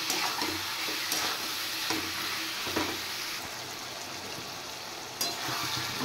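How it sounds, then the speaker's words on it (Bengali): Meat sautéing in a pan with salt, turmeric, cumin powder and chili powder for a Bengali home-style curry: a constant frying sizzle broken by a few sharp stirring scrapes of the spatula, with no talk over it. "এবার মাংসটা আর একটু কষিয়ে নেব।"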